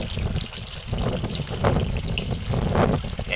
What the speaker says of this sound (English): they are the first owls in town to have running water.